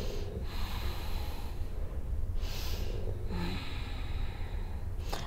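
Deep breathing during a grounding yoga stretch, with slow, forceful nasal inhales and exhales repeating about every couple of seconds, close and audible over a low background rumble, with no talking.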